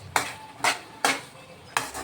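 Spoon scraping through a gobi mixture in a pan, four sharp strokes in an uneven rhythm, close and fairly quiet with no talking.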